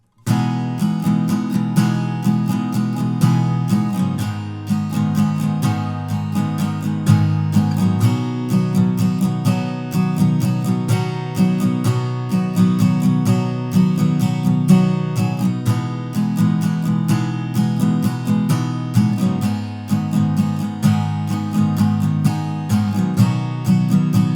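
Steady strummed guitar chords cycling through a simple progression, bright and continuous for over twenty seconds with no talking.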